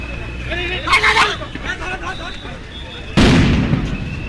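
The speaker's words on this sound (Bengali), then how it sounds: "সাউন্ড গ্রেনেড কিন্তু পুলিশের পক্ষ থেকে নিক্ষেপ করা হয়েছে।" A police sound grenade goes off amid a crowd of protesting students and soldiers, one sudden loud bang late in the clip cutting through the dense hubbub of shouting voices and a talking commentator.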